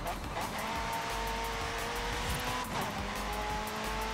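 A car drives in Forza Horizon 5 with a steady engine drone and tire noise, plus brief squeals and skids as it takes corners. A voice speaks faintly beneath it.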